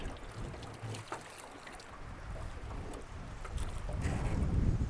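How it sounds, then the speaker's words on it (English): Wind gusts buffet a small fishing boat trolling for trout on a lake, a steady broadband rush that swells louder toward the end, with low rumbling wind noise on the microphone and no talking. "And there goes the wind again."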